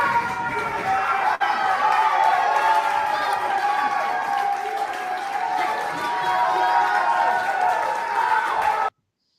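A capacity crowd roars and cheers after a soccer club clinches its conference championship win, a dense, sustained wall of shouting and applause that cuts off abruptly at the end.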